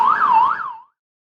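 A fire engine siren on a Busan call-out wails in smooth rising and falling sweeps, loud and close, then cuts off abruptly partway through with silence after.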